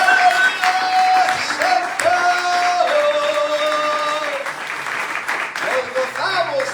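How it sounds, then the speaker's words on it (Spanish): A church congregation applauding, a sustained wash of clapping throughout, with people speaking and calling out over it. "Dale un aplauso al Señor."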